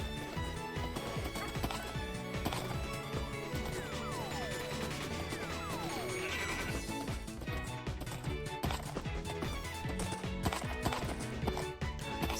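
Horse galloping in Minecraft, rhythmic clip-clop hoofbeats mixed with game sounds, busy background music and occasional crashes, continuous and fairly quiet.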